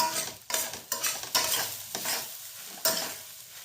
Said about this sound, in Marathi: थोडंसं परतून घेतलं.